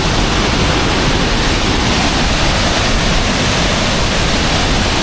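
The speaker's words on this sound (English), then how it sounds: "You can just sit there and watch this small waterfall" Small waterfall at Kuang Si Falls, a steady, loud, close rush of falling water with no break and no voices.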